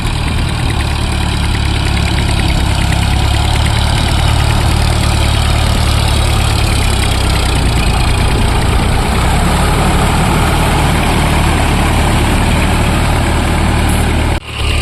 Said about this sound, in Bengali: দ্বিতীয় চাষ এখন লোয়ের 4 নম্বর গিয়ার 1500 RPM।